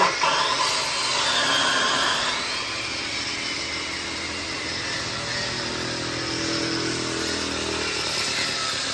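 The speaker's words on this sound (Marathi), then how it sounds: "अशा प्रकारे लाकूड चिकणे केलं जातं, त्याच्यानंतर याला परत पॉलिश केले जाते" Wood being smoothed for finishing at a woodworking workshop, a steady loud broadband machine whine of a power sander running continuously throughout with no talk.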